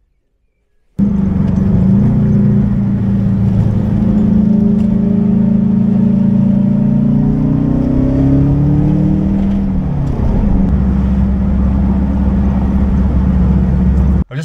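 Air-cooled VW Beetle engine buzzing steadily on a country road drive, rising in pitch as it accelerates through a gear, dipping at a shift, then settling into a lower even drone, heard alone without talk.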